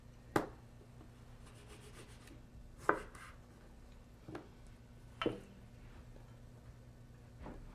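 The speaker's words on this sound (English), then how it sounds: "And slice some tomatoes." Tomatoes sliced with a knife on a board, four separate sharp chopping taps spaced a couple of seconds apart, quiet and close with no talking.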